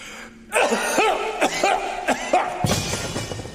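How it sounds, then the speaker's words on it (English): A few short throat-clearing coughs and vocal bursts sound close and loud, followed by a rougher, noisier cough-like stretch at the end. "Cough."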